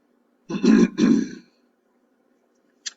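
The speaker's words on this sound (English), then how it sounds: "Let me clear my throat." A person with a slight illness clears their throat twice in quick, gravelly bursts, close to the mic, followed by silence and a faint click.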